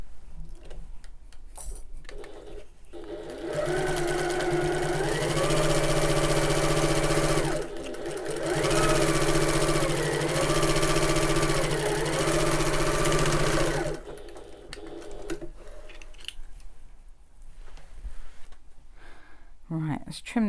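A sewing machine stitches a seam in two long continuous bursts with a brief pause between them. Its steady, close, buzzing whir is bracketed by quieter handling sounds and short stretches of speech.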